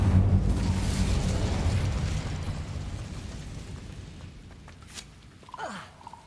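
Incendio fire spell cast in Hogwarts Legacy, a loud rumbling burst of flame that swells at once and then fades away over several seconds, with a small flicking magical whoosh near the end.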